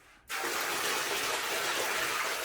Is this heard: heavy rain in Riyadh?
no